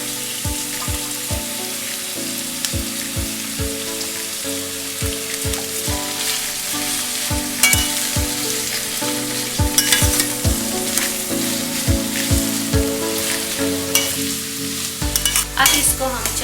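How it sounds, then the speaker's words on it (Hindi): Cabbage for vegetable chowmein stir-fried in a pan, a steady loud sizzle with regular scraping strokes of a spatula roughly every second, alone with no talk. "अब हम डालेंगे बंद गोभी।"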